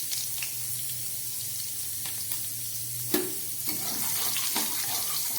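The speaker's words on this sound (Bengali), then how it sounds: "এই তেলের মধ্যে আমি দিয়ে দিচ্ছি 5 ফোড়ন আর কালো জিরে" Panch phoron and a generous amount of nigella seeds hitting hot oil, with a constant bright sizzle and scattered sharp crackles and spits, fairly loud and heard alone.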